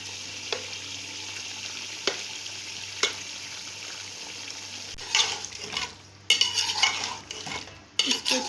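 Chicken fries with chopped garlic and ginger in a karahi pan while a utensil stirs, scraping and clinking against the metal, over a steady close sizzle that swells louder toward the end.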